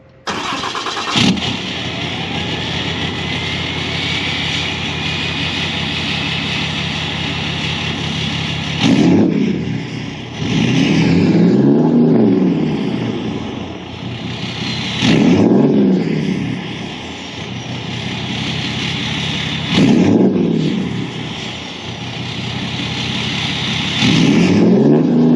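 A 5th-gen truck with a Cummins 6.7 diesel and deleted exhaust cranks, fires and revs in repeated loud swelling bursts, settling back into a raw, open diesel idle between each rev, no one talking.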